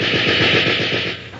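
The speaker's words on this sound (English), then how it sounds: "There is a burst of gunfire from the street below." Rapid burst of machine-gun fire in a period radio drama, a street shootout below a window, loud and continuous with a fast even rhythm of shots lasting just over a second, no voices.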